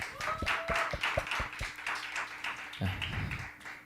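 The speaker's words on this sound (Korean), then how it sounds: "우리 박수 한번 쳐줍시다" A church congregation at a Wednesday service claps in a brief burst of scattered, fairly quiet claps, with voices talking over it.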